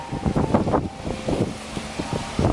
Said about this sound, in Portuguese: Olha o vento que tá, mano.